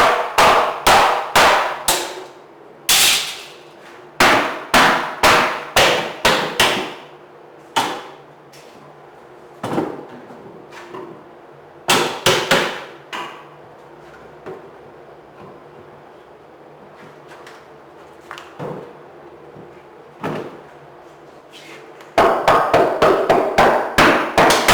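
A hammer rings against metal hoops on a wooden cask, loosening them to fit a barrel lid; sharp loud clanging blows come in irregular bursts with pauses, ending in a rapid volley.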